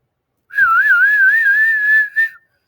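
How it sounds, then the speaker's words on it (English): A loud, sustained human whistle over applause for a performer, one long warbling note that wavers up and down before a brief final chirp, heard alone and close. "I clapped and whistled as loud as I could."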